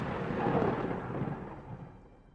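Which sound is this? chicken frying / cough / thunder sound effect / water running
thunder sound effect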